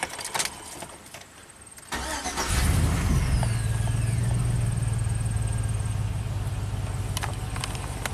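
A Chevy pickup truck with a no-crank fault cranks briefly and fires up, then settles into a steady, loud idle nearby, with a few clicks and knocks over the running engine.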